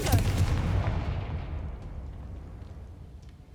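A Confringo spell in Hogwarts Legacy ends in a heavy booming explosion that starts loud and fades over a few seconds into a low rumbling tail.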